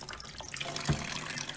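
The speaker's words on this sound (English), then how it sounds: "And then with the running water, this can just be cold water, just start cleaning out all these holes." Cold tap water runs steadily while a Dyson DC33 cyclone's vortex cylinder holes are rinsed and scrubbed with a toothbrush, giving a continuous close splashing hiss with a brief louder splash.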